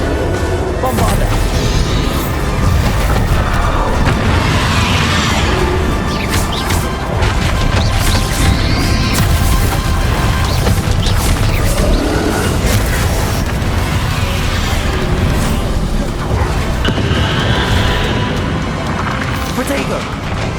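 Bombarda blasting spells in Hogwarts Legacy go off as repeated loud crashing booms and impacts, mixed with other spell effects through a long, continuously busy stretch, with a voice speaking throughout.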